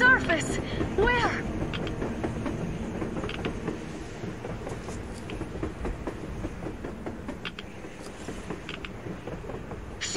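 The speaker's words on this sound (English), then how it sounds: "A train! A damn train on the surface!" A train rolling across the surface in the game Metro Exodus, a steady rumbling clatter with rhythmic clicks that holds for about ten seconds, loudest at the start and then settling into a continuous drone.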